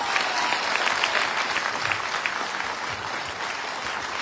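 Loud, sustained applause from a large audience at a business meeting, dense steady clapping filling the whole moment without letup, given in honor of Sanjeev sir.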